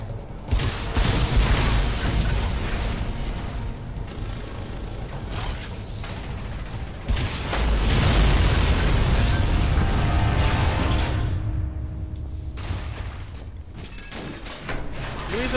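Missile explosions and mechanical clanks in the video game Shadow Complex, with repeated loud booms and bursts over a busy game soundscape, broken by a brief quieter stretch near the end.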